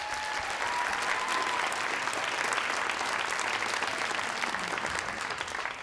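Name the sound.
applause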